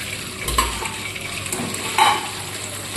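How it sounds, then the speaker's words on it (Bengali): Fish pieces frying in oil in a pan, a steady close sizzle with a few soft stirring and utensil touches, no voices. "বাকি মাছগুলোকে আমি ভেজে নিচ্ছি।"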